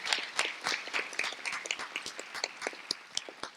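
Scattered, sparse clapping from an audience at a school district State of the District event honouring teachers, with individual claps picked out irregularly and quietly rather than merging into a full ovation.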